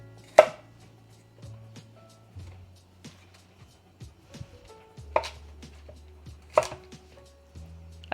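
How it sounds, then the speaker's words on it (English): A knife cuts through lotus root on a board in a handful of sharp, separate chops spread over several seconds, with small clatters and a low steady hum between them. "I'm cutting it into pieces so that it can at least fit in the pan"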